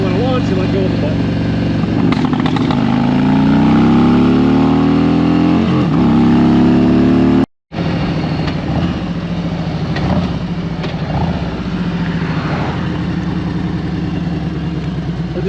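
A 2021 Harley-Davidson Street Glide M8 engine is held at launch RPM by a launch-control button, a loud constant drone broken by a brief dropout midway, then settles back to a strong hum.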